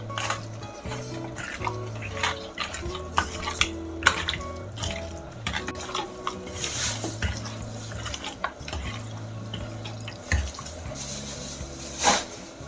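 Spoon stirring and scraping in a metal bowl as lemon juice is mixed into a chicken marinade, steady clinks and wet mixing sounds with faint kitchen background.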